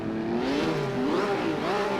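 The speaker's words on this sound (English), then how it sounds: "everyone's revving their engines. We're about to go." Historic 1950 Formula 1 race car engines revving together on the grid at Monza in Assetto Corsa, a loud, continuous, rising and falling engine drone with no talk.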